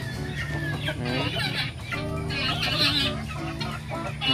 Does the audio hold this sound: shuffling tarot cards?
no